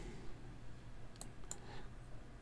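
Computer mouse clicking twice, faint and crisp, a short pause between the clicks, over a low steady room hum.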